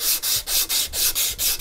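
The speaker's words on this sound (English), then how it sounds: "I take a 1-inch strip of 120 sandpaper" A 1-inch strip of 120-grit sandpaper rubbed back and forth across a rusty axe head, a loud close rasping in quick, even strokes, about seven in under two seconds.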